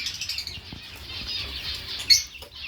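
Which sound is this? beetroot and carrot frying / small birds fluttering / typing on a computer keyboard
small birds fluttering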